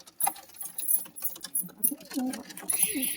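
Pigeons of varieties such as kaldom and kalo dana, held for sale, give low, soft coos amid rustling, light jangling and faint background voices.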